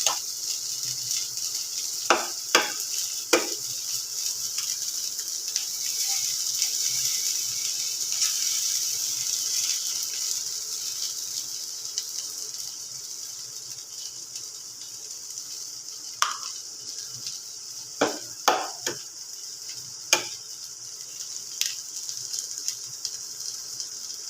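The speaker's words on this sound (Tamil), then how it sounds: "இப்போது நம்ம முட்டையை உடச்சி ஊற்ற போகிறோம்." A drumstick-flower stir-fry sizzles steadily in a pan while eggs are cracked in and stirred, with several sharp clicks and taps rising over the constant frying hiss.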